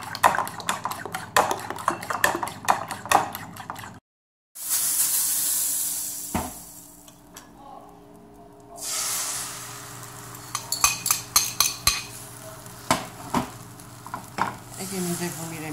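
An omelette of beaten eggs, salami and crumbled cheese fries in a pan, with soft sizzling, repeated clinks of a utensil against the pan and stirring, broken by a short silence partway through.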